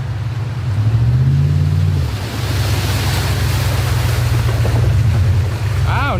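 A lifted second-generation Dodge crawler truck's engine drones loudly through an off-road water crossing while water surges and splashes steadily around it, with rushing spray continuing throughout.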